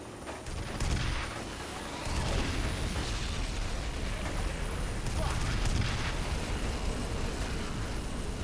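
Video game gunfire and explosions from F.E.A.R. Perseus Mandate form a dense, continuous barrage of rapid shots and deep booms, loud and close, with voices heard over the combat.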